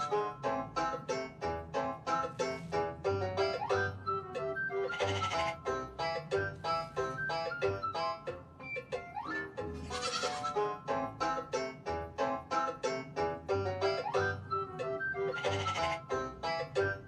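Goat bleats from the video game Goodnight Universe recur over a bright, steady musical backdrop, with a few louder, wavering cries standing out amid the tune rather than heard alone.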